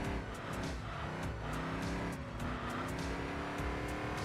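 A Ford GT supercar in the Enthusia Professional Racing video game holds a continuous, loud engine drone with shifting pitch throughout, without pause.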